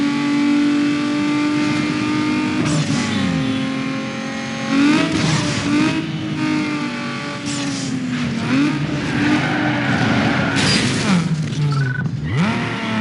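Car engine revving in the racing video game Need for Speed Underground 2, loud and continuous, with repeated throttle swells and pitch sweeps as revs rise and fall, plus game music underneath.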